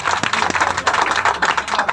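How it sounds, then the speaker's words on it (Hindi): A crowd clapping at a street protest in Ayodhya, quick uneven claps running steadily for the whole moment, fairly close and loud with mixed voices underneath. "ताली बजा भैया।"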